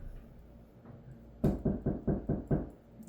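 Knocking on a house door: a quick series of five firm raps in a steady rhythm, fairly loud and close, following a quiet room with no talk.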